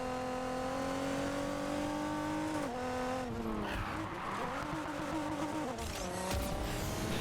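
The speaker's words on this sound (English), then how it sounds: "The superchargers sound like they're preparing for takeoff." A supercharged car engine in Need For Speed Heat whines and revs hard up close, pitch rising and dropping through gear changes, with tire skids and squeal mixed into the loud, steady engine roar.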